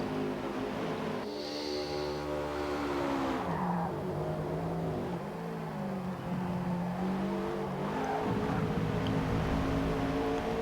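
GR86 Cup race cars at Road America, engines droning steadily with harmonic whine, shifting pitch as gears change and revs rise and fall, fairly close and continuous throughout.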